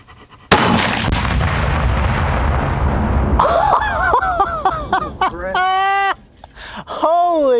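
A loud, sudden blast with a long rumbling decay, followed by excited voices and laughter nearby.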